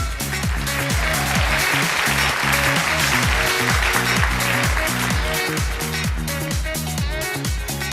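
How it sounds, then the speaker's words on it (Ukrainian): At a children's gala concert, the audience applauds a modern dance school's cat-and-mouse dance. The clapping is spread and continuous but sits under loud, rhythmic, bass-heavy music. "Ваші оплески, друзі."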